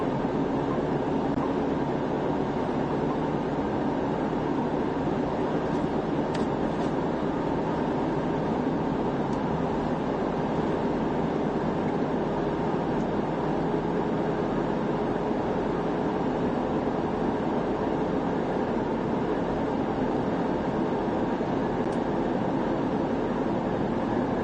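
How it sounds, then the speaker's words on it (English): An old Santa Fe locomotive pulls a train past in Nebraska, making a continuous loud rumble and steady rolling clatter with no break for the whole stretch. "Man, that's an old Santa Fe locomotive."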